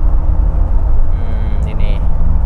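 Steady cabin rumble and road noise from a Jeep Wrangler JL with a 2000cc engine cornering at over 100 km/h, a loud, continuous drone with no breaks.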